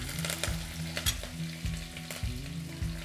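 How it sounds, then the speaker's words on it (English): Finely minced garlic sizzles in warm oil with cumin seeds, a close, steady frying crackle broken by several regular scraping stirs, loud and alone without talking. "Next, we're adding our finely minced garlic,"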